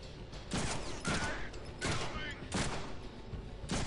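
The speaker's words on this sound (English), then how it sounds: "I'm totally shooting him in the head." Gunfire in the Deadpool video game, sharp bursts repeating roughly every second over about four seconds, with a player's voice heard between the shots.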